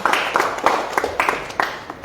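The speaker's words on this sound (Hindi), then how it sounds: "मंडल प्रधान जी जोरदार तालियों के साथ इस्तकबाल करें खजूरिया साहब का" Applause welcoming new members at a BJP political gathering, a small group clapping in quick, uneven rhythmic bursts, fairly close and loud, with no talk over it.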